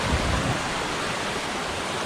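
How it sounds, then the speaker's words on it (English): A tributary of the Skokomish River in the woods of Olympic National Park, near Lake Cushman, rushes steadily and loudly with a dense, continuous close-up roar of flowing water and no talk. "This is one of the tributaries for the Skokomish River."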